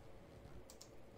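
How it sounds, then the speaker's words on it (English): Faint, sparse keystrokes on a computer keyboard, a couple of light clicks over a low steady room hum, with no talking. "Stop typing after freaking Aikman"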